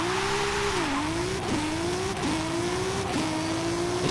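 Abarth 131 rally car in Forza Horizon 5 accelerating hard, a steady loud engine drone rising in pitch through several quick gear shifts, with no talk.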